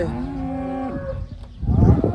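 A cow moos long and loud in a farm shed, a drawn-out tonal low call, followed by a burst of rustling and shuffling from the livestock nearby.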